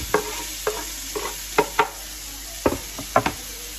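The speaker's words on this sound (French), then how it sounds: "Je les fais revenir." Onions, and peppers with them, sauté in a pan as pizza toppings, giving a soft continuous sizzle punctuated by a series of sharp utensil knocks and scrapes against the pan, close up and without talking.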